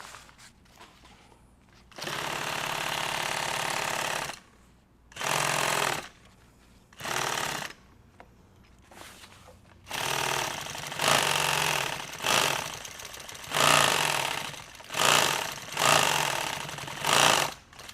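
An industrial sewing machine tacks and zigzag-stitches nylon tactical gear in loud, close bursts of rapid stitching. The bursts vary in length and are separated by short pauses, with no talk.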